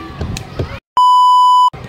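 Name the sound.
beep sound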